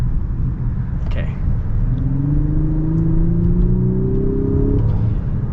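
A 2022 Lexus LS 500 engine pulls steadily, its low rumble rising in pitch as the car accelerates, heard from inside the cabin with a steady road drone beneath.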